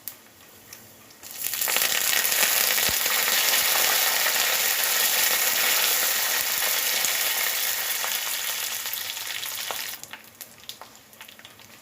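Curry leaves, dried red chillies, garlic and tempering spices crackle in hot oil for a tadka, bursting into a loud, steady sizzle after a quiet start and fading near the end, with no talking.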